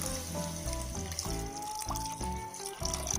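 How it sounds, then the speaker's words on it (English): Water poured from a glass into a pan of mixed vegetable curry with spices, a continuous trickling pour with gurgling over a background of steady music. "After mixing it well, you can then add 2 glasses of water to it."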